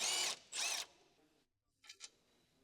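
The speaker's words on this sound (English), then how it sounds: "Use an 18mm deep socket with an impact wrench" Impact wrench hammering on a lower control arm bolt of a Ford Focus ST, two loud close rattling bursts, a pause, then two shorter quieter bursts.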